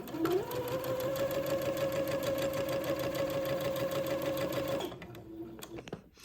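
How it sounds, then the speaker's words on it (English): A sewing machine runs steadily for several seconds at close range, stitching a basting thread on a sleeve, with a rapid even whir that starts abruptly and stops near the end, followed by faint handling clicks. "sew the second basting thread 1/4 of an inch away from that"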